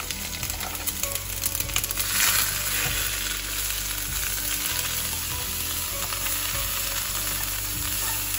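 Ground onion sizzles and fries steadily in a heavy kadai over a lowered flame, with occasional stirring scrapes, a continuous close sizzle with no talking.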